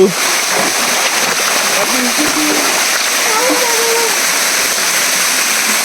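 A small waterfall of cold water splashes steadily at a hill temple trekking spot, a close continuous rush while a person talks over it.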